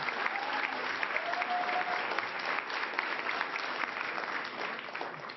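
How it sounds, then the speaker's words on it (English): Crowd at an announcement with New York governor Hochul applauds the sewer crew, steady full clapping that holds strong before easing slightly toward the end. "let's hear a round of applause for our sewer crew"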